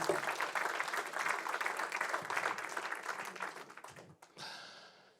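Audience applause at a regional round-table conference on building-material reuse, a dense wash of many hands clapping steadily for about four seconds before tapering off abruptly, followed by a brief quieter burst.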